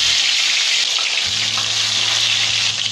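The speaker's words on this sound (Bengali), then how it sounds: "আমি একটা দুটো করে মাছ ভেজে নেব।" Bhola fish frying in hot mustard oil, a loud continuous sizzle that swells as a low hum sets in partway, no talking.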